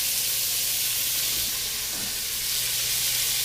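Onions fry in a pan with a bit of olive oil, a steady close sizzling hiss that holds even throughout with faint stirring bumps and no voices.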